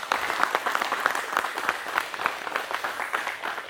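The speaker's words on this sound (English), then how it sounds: "So a big round of applause to them." An audience at a fire department press conference claps steadily, a dense ripple of many hands with individual sharp claps standing out, continuous and fairly close throughout.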